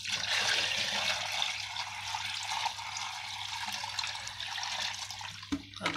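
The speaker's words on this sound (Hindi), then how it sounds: "यहाँ देखिए साइफन के अंदर में भी पानी यहाँ पे डाल रहे हैं" Water poured into the siphon of an Indian squat toilet gushes and splashes in a steady, close rush, easing slightly before a brief knock near the end.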